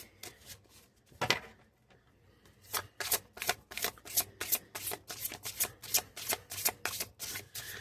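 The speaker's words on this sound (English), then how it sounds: "I'm going to put these back in and shuffle again" Tarot cards being shuffled by hand: one riffle, a short pause, then a rapid run of crisp, close riffling bursts.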